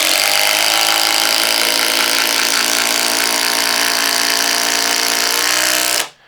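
Flex compact impact driver sinking a large fastener, a loud, continuous close-up hammering buzz that holds steady for about six seconds and then cuts off abruptly.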